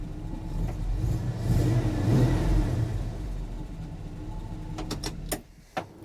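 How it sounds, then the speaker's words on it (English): A truck engine, freshly fitted with a new starter after sitting dead for two weeks, runs with a loud, deep rumble that swells as it revs, then drops away, leaving a few sharp clicks and clanks. "It's always good when you can start your truck."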